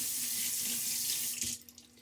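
Water runs from a bathroom tap into a sink while the face is wetted during a wet shave, a steady close hiss of flow that cuts off abruptly near the end, leaving a few drips.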